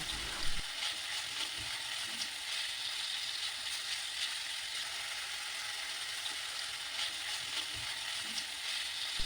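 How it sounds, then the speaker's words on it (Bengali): Chopped capsicum and cabbage fry in a pan for American chop suey, giving a steady, dense sizzle with a few soft knocks of stirring, close by and with no one speaking. "সবজিগুলোকে মিনিট দুয়েকের মতো ভেজে নিচ্ছি"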